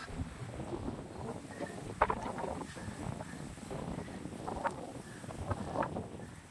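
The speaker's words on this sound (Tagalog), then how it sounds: "Grabe lakas mahangin guys, kung naririnig nyo" Strong gusty wind on a foggy mountain trail, buffeting close against the microphone, roaring and thumping steadily with occasional sharper knocks.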